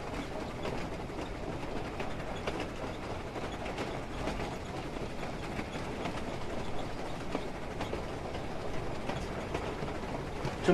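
A train runs along the rails with a faint, steady rumble and light rhythmic mechanical clatter throughout.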